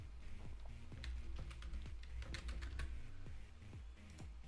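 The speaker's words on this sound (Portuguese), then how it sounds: "vamos ver se vocês descobrem a senha que eu vou digitar aqui" A password typed on a computer keyboard in a rapid patter of close keystrokes, fairly quiet and continuous for a few seconds with a low rumble underneath; no one talks.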